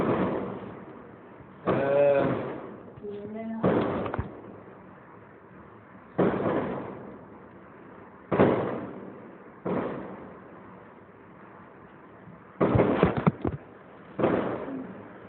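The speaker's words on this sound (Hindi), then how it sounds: "यहाँ पर जरा पटाखे बज रहे हैं" Firecrackers go off outside in a string of sharp, loud bursts, about eight cracks and bangs spread irregularly with short gaps between them, heard alone without talk.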